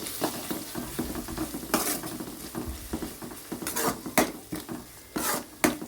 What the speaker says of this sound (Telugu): కొంచెం ఇంకా వేగాలి, మెత్తగా అయిపోవాలి ఆనియన్స్ అంతా